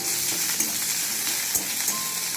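Onions frying until brown in a pan, a dense, even hiss of sizzling oil up close with a couple of faint stirring clicks, no talking.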